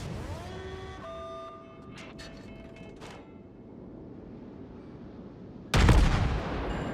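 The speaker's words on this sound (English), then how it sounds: "We set him on fire with the first salvo, and we just keep bombarding him." Warship main guns fire salvos in World of Warships, booming over a steady engine-like rumble, with a few sharp tonal bursts early and a loud, broad blast near the end, without any talk.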